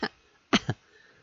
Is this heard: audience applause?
no